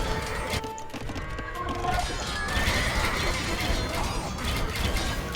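Heavy cavalry horses in Age of Empires II whinny over clattering hooves and clanking battle mechanisms, a busy, dense game mix at steady loudness with horse calls rising out of it.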